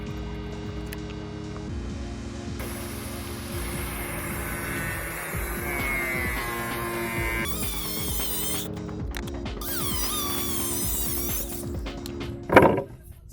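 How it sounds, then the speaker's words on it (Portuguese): An old, worn toothless tungsten disc saw spins up and cuts through wood, a sustained whining, squealing drone with shifting tones and a sharp grinding burst near the end, steady and fairly loud throughout. "É um disco de tungstênio, corta madeira, corta prego e você não corre o risco de se machucar cortando."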